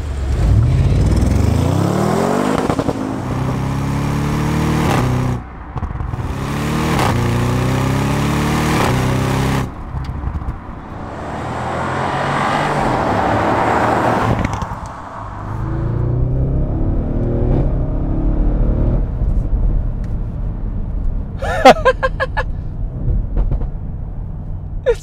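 Loud engine of a 2017 Audi RS6 Avant Performance rumbling and revving close by, with rising acceleration sweeps, a few sharp exhaust pops and crackles near the end.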